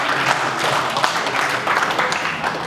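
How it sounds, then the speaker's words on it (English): Audience applause at a live magic show, a sustained wash of many hands clapping at moderate loudness, filling the whole moment with no voices over it. "Now you can applaud"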